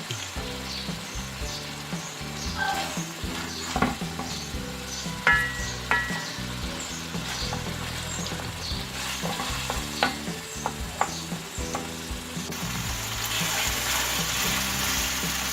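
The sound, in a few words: spice mix with tomato being fried and stirred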